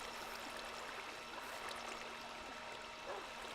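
Water flows in the Minecraft video game as a steady, soft stream and trickle that holds at an even level throughout, with no voices over it.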